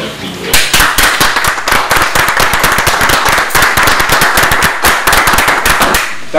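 Loud, dense applause from an assembly approving a motion by acclamation at a general meeting of a Cameroonian foundation, steady rapid clapping filling the whole stretch before stopping abruptly at the end.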